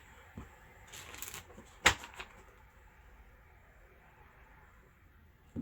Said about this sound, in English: One more time for the shuffle.